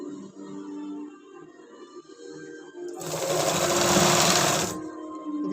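A sewing machine runs in one fast burst of stitching, joining a seam on tracksuit fabric for a 3–4 year old child, loud and close for about two seconds amid quiet room noise before and after.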